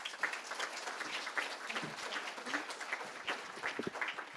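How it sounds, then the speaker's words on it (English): An audience applauds steadily at a leadership awards luncheon, a dense even patter of many hands clapping, moderately distant and sustained throughout. "Please give them a round of applause."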